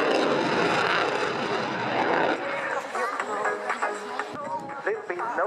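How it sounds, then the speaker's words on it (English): A fighter aircraft flies a high-alpha roll at the Royal International Air Tattoo 2016 air show. A loud jet roar fills the first two seconds, then drops to a quieter, uneven mix of distant engine and crowd-area noise. "the high alpha roll allows fighter aircraft to be handled in a very narrow turning space."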